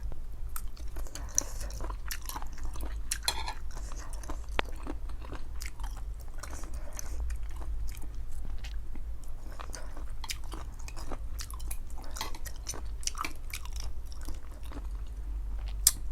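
Crunchy squid salad with small collagen-rich squid being chewed close up, a steady run of crisp bites and wet crunching over a low constant hum, with no talk.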